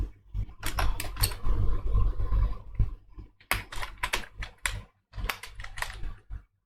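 Bursts of clattering keystrokes on a computer keyboard as code is typed, close and fairly loud, arriving in quick runs separated by short pauses.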